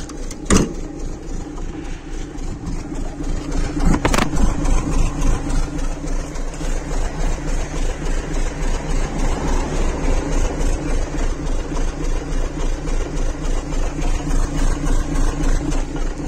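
A car idles steadily while its exhaust and muffler give a rhythmic rattling pulse, loud and close, with a couple of sharp knocks near the start.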